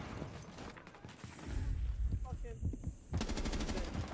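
Video game gunfire crackles in quick automatic bursts, close and sharp, with a pause in the middle before a fresh rapid volley.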